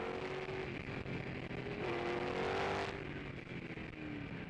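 A McRae GM1 Formula 5000 race car engine, heard onboard during a race at Manfeild, holds a loud sustained roar with shifting revs, rising then easing off near the end, with no talk.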